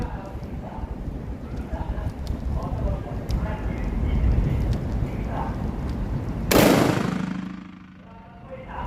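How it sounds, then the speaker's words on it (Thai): A Derya Lion X100 shotgun fires one loud, booming shot at a shooting range. The blast comes after a stretch of background murmur and noise, and its echo fades over about a second. "เดี๋ยวลองยิงกันดูนะครับห้านัดนะครับ"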